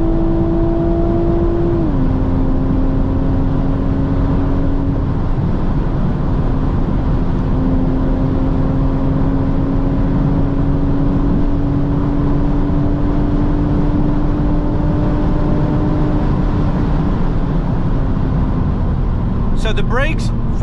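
A BMW Z4 M40i cruising at high speed on the Autobahn, its engine holding a steady drone with a couple of gear or rev shifts under constant road and wind roar; a person talks over it.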